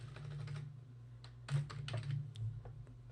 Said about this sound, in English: so I'm going to type in learn guitar